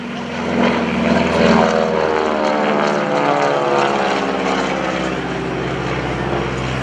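A nine-cylinder, air-cooled radial-engine propeller airplane flies low past the crowd at a naval air station airshow, its loud droning roar rising and then shifting in pitch as it passes close by.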